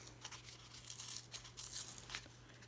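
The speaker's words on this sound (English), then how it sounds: "And I'm going to peel it open now." A sealed paper envelope peeled open by hand, quiet crisp tearing and crinkling in a few short bursts over a faint steady hum, close to the microphone and without speech.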